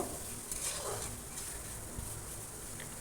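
Water lily stems with green chili stirred in a pan, a faint steady sizzle with soft scraping strokes, close and without talk.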